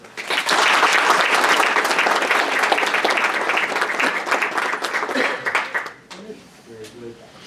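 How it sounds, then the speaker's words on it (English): An audience at a school board meeting applauds students, loud sustained clapping that fades out near the end, followed by a speaking voice. "if we could give them a round of applause"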